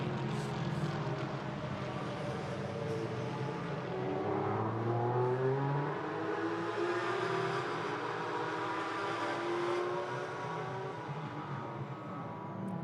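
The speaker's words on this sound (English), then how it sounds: "Braking hard for the hairpin." GT4 race cars brake into the Hockenheim hairpin as several engines drone and shift pitch, downshifting and then pulling away. The loud, continuous, layered mechanical roar is heard at trackside without clear speech.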